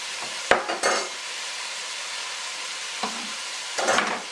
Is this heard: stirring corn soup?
yes